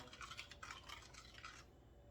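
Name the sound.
stirring a mixture in a bowl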